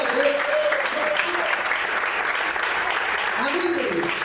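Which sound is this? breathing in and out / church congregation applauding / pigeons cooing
church congregation applauding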